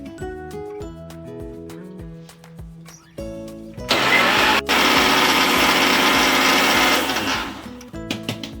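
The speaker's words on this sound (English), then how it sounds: "Let us cover it and grind this." A kitchen grinder blends about 18 to 20 garlic cloves in one loud, steady whir lasting several seconds, with background music before and after.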